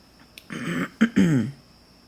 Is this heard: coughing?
yes